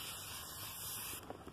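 A short, steady hiss of an aerosol scent spray on boot soles lasting about a second, close up, ending abruptly with a faint clatter.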